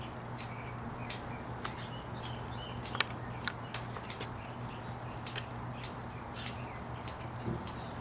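Pruning shears snip through juniper roots during repotting, a string of sharp, close clicks spaced about every half second over a faint steady hum, with no talking.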